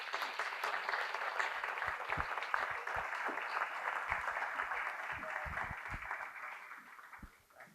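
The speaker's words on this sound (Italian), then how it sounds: "Lo incoraggiamo con un altro applauso," Sustained applause from an audience at a celebration marking 150 years of a Genoa newspaper, a steady dense clatter of many hands that holds for several seconds before tapering off at the end.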